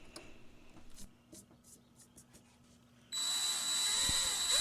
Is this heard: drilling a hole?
yes